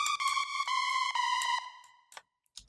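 A pulsing electronic tone is processed with added reverb, ringing in sonar-like pings that repeat briefly. It then trails off into an echoing tail with a couple of faint clicks.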